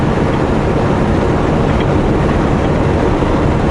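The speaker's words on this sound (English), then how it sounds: "Train." A Canadian Pacific freight train with two locomotives up front passes close by. It gives a loud, steady, broadband rumble throughout, with no voices.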